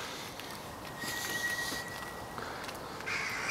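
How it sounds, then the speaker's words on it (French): Scattered outdoor bird calls, including a few harsh caws, sound faintly at a distance in a frosty January garden over quiet wintry background hiss. "les oiseaux, on les entend un petit peu quand même."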